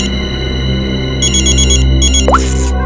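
A telephone ringtone sounds in a tense TV crime-drama scene, arriving in two short bursts of bright pulsing electronic tones over a steady low music drone, then a quick swooshing sweep.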